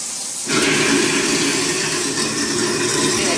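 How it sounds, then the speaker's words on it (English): Water starts abruptly and keeps running hard into a kitchen sink garbage disposal, a loud, steady rushing hiss that continues to the end with no voices. "Throw a little water on with it."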